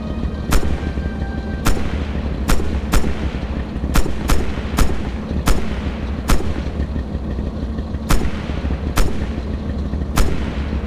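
Hull machine gun of a German tank firing in the Red Orchestra 2 Stalingrad training mission, a series of sharp separate shots at uneven intervals over a steady low engine rumble, loud and close, with no talk.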